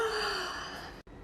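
A long, breathy yawn-like exhale, drawn out and fading, then a brief cut of silence before a faint breath resumes.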